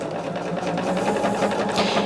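A sewing machine runs steadily at a quarter-inch seam on pieces of a quilt mosaic, a close, loud continuous whirring hum of rapid stitching.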